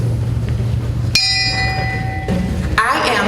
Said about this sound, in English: I toll the bell for the fourth president